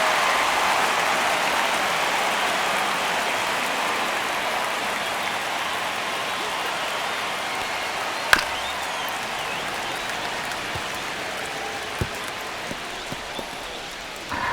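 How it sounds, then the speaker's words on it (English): A spring training baseball crowd at a Giants vs Dodgers game in a tense one-run ninth inning makes a steady, dense roar of cheering and clapping throughout, with a few sharp claps standing out near the end. "Crowd locked in right now"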